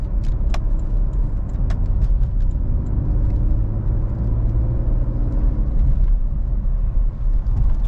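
A 2017 Porsche Cayenne pulls away smoothly, a steady low engine and road rumble heard from inside the cabin, with a few light clicks and rattles over the top and no talking.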